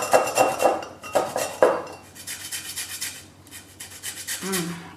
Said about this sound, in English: So I'm going to scrape those first. You can get lots of nice flavour off your lime peel.